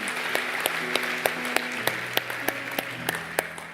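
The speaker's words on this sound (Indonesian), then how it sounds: "Boleh kita beri tepuk tangan kemuliaan buat Tuhan." A church congregation applauds during a sermon, steady clapping with regular sharp accents over sustained organ or keyboard chords played underneath.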